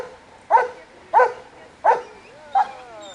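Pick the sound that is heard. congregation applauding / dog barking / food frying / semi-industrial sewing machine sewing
dog barking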